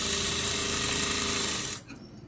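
A sewing machine stitches a dori cord onto slippery cloth with a steady, close, loud whirring run that stops abruptly near the end, leaving faint room noise.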